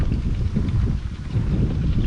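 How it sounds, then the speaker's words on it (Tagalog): Strong outdoor wind at sunset buffets the microphone, making a heavy, low rumbling roar that swells and dips in gusts with no other clear sound. "Tapos mahangin."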